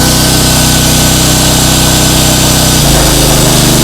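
A portable generator that doubles as a welding machine runs at a construction site, powering welding and power tools at once: a loud, steady engine drone that shifts pitch near the end, with no talk.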